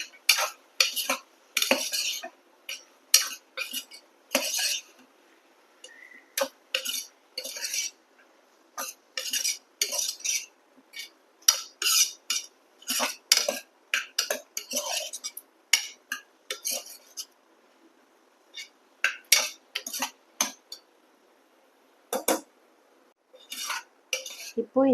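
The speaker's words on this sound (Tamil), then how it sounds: "சேர்த்துட்டு நல்லா எல்லாத்தையும் மிக்ஸ் பண்ணிக்கோங்க." A metal spoon scrapes and clinks against a pan while stirring mushroom gravy with green peas, in a quick irregular run of close, crisp strokes with short pauses between them and no talking.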